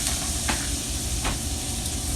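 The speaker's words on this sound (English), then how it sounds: "Okay, so I put a tablespoon of garlic in there," Chopped garlic sizzles in a hot pan, giving a loud, continuous hiss with two brief bursts of stronger spitting along the way.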